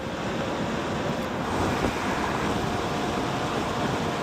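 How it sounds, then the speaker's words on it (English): Steady, loud wind buffets the microphone of smart glasses worn while riding an electric unicycle, a continuous broadband rumble and roar with no pauses from start to end. "It's a little hard to hear what Meta's saying to me because it's pretty windy"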